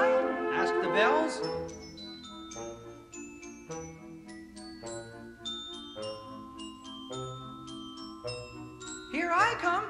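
Orchestral bells ring out a series of clear, bright struck tones in a tinkling melodic line, with a brief bit of other instruments at the start and end.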